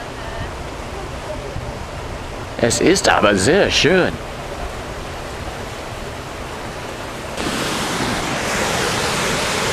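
Rushing river water in Banff National Park roars as continuous broadband noise with wind buffeting the microphone, and a person briefly speaks over it.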